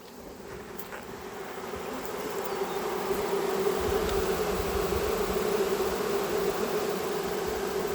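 Honeybees fanning at the entrance of a hive that holds the queen: a steady, loud insect buzz that gradually swells over the first few seconds and then holds continuous, with no voices.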